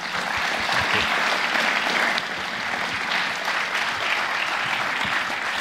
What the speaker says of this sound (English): let's give him once more a warm applause and welcome his talk.